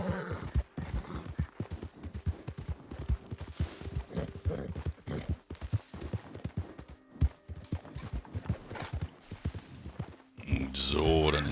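Galloping horse hooves in Red Dead Redemption 2 beat out a fast, steady clip-clop throughout, with someone talking over them and a burst of other game noise at the very end.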